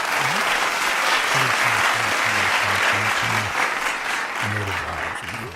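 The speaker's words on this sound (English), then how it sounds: "Go ahead and give New Era a round of applause" A crowd applauds for a birthday, a steady wash of clapping with a short rhythmic tonal beat running under it and no clear talk on top.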